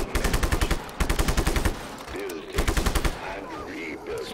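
Rapid bursts of automatic gunfire in the video game Just Cause 3, several loud rattling volleys separated by short pauses, with faint voice and game sounds between them.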